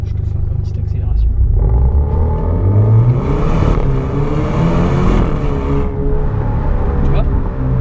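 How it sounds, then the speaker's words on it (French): An Alfa Romeo Stelvio accelerates hard from inside the cabin, its engine note climbing through a gear change with a deep rumble underneath, while someone speaks over it. "Je te fais encore une petite accélération."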